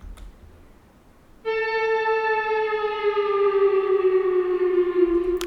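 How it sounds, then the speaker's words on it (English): A guitar recording run through a Portal effect sounds deep and distant. After a quiet start it becomes a sustained, harmonically rich tone that drifts slowly downward in pitch and holds steadily to the end. "a guitar playing in a cave. So very, very deep, something very deep and distant."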